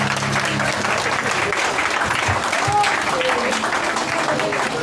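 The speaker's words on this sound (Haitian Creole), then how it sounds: "Un applaudissement pour Jésus." A church congregation claps together in loud, steady applause that fills the room, with a faint voice rising briefly above the crowd.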